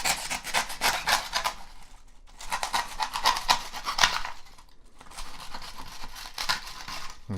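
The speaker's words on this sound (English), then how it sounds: "Probably should get some sharper scissors." Scissors snip and rasp through fine printed hairs on a 3D-printed lion, a close, continuous scratchy rubbing in three bursts separated by brief pauses.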